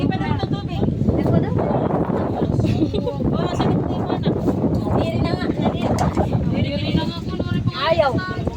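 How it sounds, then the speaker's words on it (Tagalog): Strong wind blowing outside buffets the microphone in a steady rushing roar, while several people talk over it throughout. "Mahangin sa labas."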